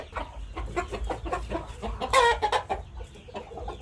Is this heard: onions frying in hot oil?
no